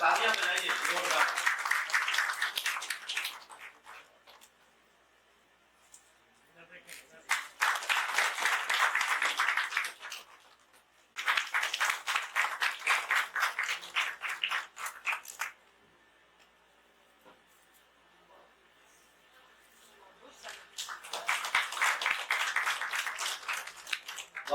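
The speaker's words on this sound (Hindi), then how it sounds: "तालियां बजाइए जोरदार।" Audience applause at a Hindi Day ceremony hall in Patna, loud bursts of clapping coming in repeated waves separated by quieter gaps.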